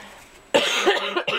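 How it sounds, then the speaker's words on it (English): A sick person coughs up close after a quiet lead-in, several harsh bursts in quick succession with a short pause before a final cough, no speech. "Sorry for my voice and the coughing."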